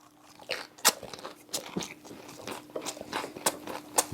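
Crunchy, close-up chewing of gwamegi, a Pohang specialty, wrapped in dried laver with seaweed: a steady series of crisp bites and crackling mastication, with several sharper crunches and no talking.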